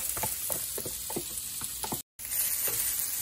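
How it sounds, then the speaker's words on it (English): Chopped onions sautéing in olive oil over medium heat, a steady close sizzle with soft crackles and light stirring taps, broken briefly by a short dropout near the middle. "I'm going to add them to some olive oil here and saute them a little bit"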